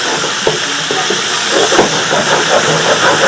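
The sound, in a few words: chicken frying in a pan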